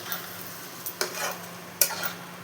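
Potato masala with a little water and green chillies stirred in a pan, a spatula scraping and tapping against the metal in a few sharp strokes over a faint low simmer, no voices.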